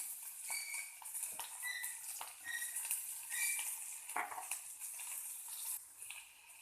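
Chopped onions fry in oil in a pan for an Assamese jackfruit and fish curry, giving a steady close sizzle with repeated scrapes and clinks of stirring.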